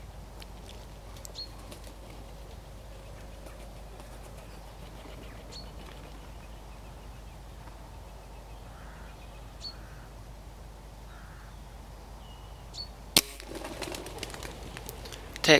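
Wood pigeons flying in to decoys during an air rifle hunt, with soft distant cooing and a few brief wing flaps over quiet outdoor ambience, ending in a sharp burst of close flapping.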